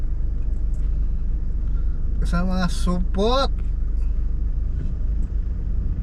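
Dense midnight traffic on a Philippine expressway hums and rumbles steadily, car engines droning nearby while someone speaks briefly in Filipino over the noise.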